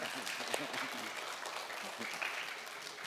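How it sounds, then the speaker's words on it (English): An audience gives a round of applause for dance educator Tom Evert after a geometry-through-dance session, a dense patter of clapping at moderate distance with a voice briefly audible over it. "You want to give Mr. Evert a big round of applause here?"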